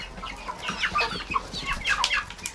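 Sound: rooster (young cockerel) clucking in a village yard

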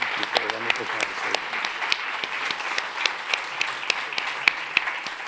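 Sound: audience applause at a symposium

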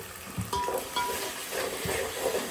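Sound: stirring chicken curry frying in a pan

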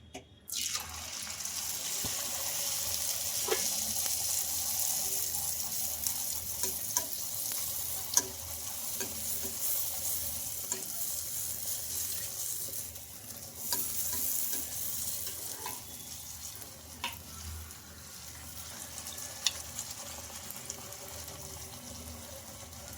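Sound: puris frying in oil

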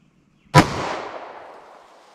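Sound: handgun shots firing Winchester Silvertip 9mm ammo

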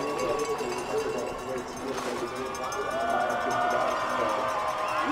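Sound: crowd roaring and cheering as a Paralympic skier finishes

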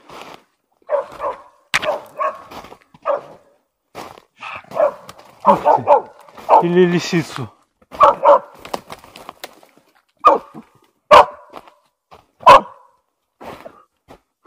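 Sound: laika hunting dog barking and snarling at found animal

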